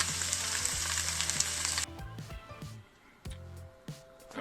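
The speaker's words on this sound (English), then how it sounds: "lovely sizzling away the chicken and the cut up sausages" Chicken and cut-up sausages sizzle in olive oil in a pan, a loud hiss at first that suddenly drops away to quieter crackling and small pops, with faint stirring knocks.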